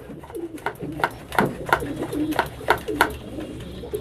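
Feral pigeons coo repeatedly nearby in soft, rhythmic bursts, with scattered flutters and shuffling in the background.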